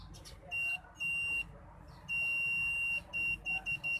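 A multimeter buzzer sounds while checking continuity on a China-made mobile phone circuit board during a ringer fault repair: a run of clear, high electronic beeps, one long tone then several shorter ones, close and loud over faint background noise.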